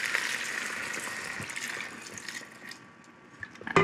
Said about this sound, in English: I'm gonna add about a cup and a half of chicken stock